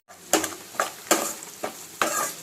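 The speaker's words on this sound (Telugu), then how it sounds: "ఉల్లిపాయను, పచ్చిమిర్చి, ఇందులో కరివేపాకు వేసేసుకోండి. మంచిగా ఒకసారి కలిసేలా తిప్పుకోండి. మంచిగా వేగనివ్వండి ఆనియన్స్." Onions, green chillies and curry leaves frying in a pan, stirred in several distinct scraping strokes over a steady sizzle, close and moderately loud with no talking.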